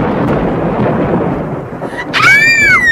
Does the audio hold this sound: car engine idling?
no